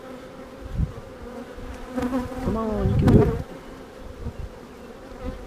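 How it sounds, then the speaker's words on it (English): Honeybees buzz steadily around an opened hive during an early March inspection as a drone emerges, with a louder, nearer burst of wingbeats close by in the middle and a person speaking briefly over the hum. "Hey, look at that little drone coming out."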